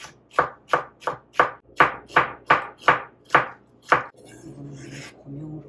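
A knife slices a green onion thinly on a cutting board, about nine crisp, evenly paced cuts close by, followed by softer scraping noise.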